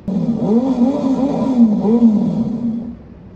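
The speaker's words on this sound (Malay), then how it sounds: "tadi merupakan bunyi motosikal" A motorcycle engine revving close by, its pitch rising and falling in repeated sweeps for about three seconds before fading out, loud and alone.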